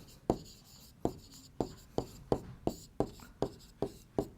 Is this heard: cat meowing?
no